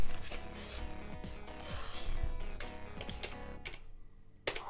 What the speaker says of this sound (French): Hop, je tape.